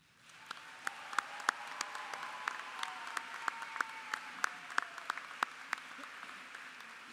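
Sustained applause at an undergraduate commencement ceremony, with many distinct hand claps popping out over a broad, even wash of clapping from a large graduation crowd, fairly distant and reverberant.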